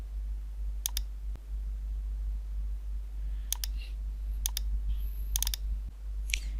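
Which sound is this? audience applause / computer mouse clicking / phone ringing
computer mouse clicking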